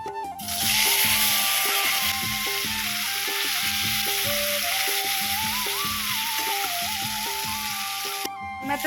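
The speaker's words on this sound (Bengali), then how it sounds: "এখানে মাছ ভাজা বসিয়েছি" Fish coated in turmeric and salt frying in a pan on a home kitchen stove, giving a steady, fairly loud sizzle that runs throughout beneath background music.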